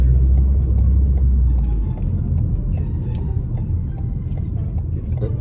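Friday evening rush-hour road traffic heard from inside or beside a car, a steady loud rumble of engines and tyres with passing vehicles and no talk.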